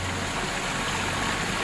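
Water runs steadily out of a pipe sticking up from the ground, a constant close, rushing trickle with no break and no voices.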